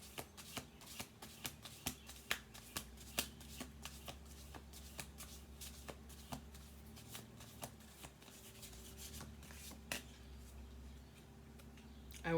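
Cards are shuffled for a reading, close and quiet, a quick run of soft riffling slaps in an uneven rhythm over a faint low hum.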